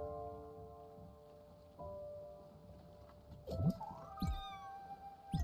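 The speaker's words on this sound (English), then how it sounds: "We got our very own spirit kitty over here." A cat meows in the video game Spiritfarer, with a few short, fairly close mews coming in near the end over a steady musical, rain-like game background.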